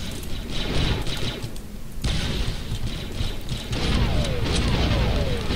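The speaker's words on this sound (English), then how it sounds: "What, the nade spam? Yep. The eternal explosion noise." Grenades explode over and over during a 5v5 online match of the video game Star Wars Republic Commando. Dense, overlapping booms and crackling blasts keep a loud, nearly unbroken roar going throughout.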